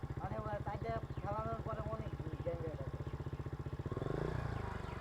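A small low-cc motorcycle engine with a fault runs close by, an even rapid putter that swells into a louder rev near the end, while someone talks over it.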